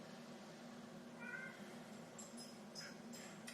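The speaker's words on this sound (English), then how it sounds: "He's meowing at me." A cat meows twice indoors, short tonal calls standing out clearly against a steady low background hum, with no talking over them.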